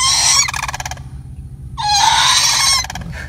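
Sandhill cranes call in two loud, close, rattling bursts separated by a short quiet pause.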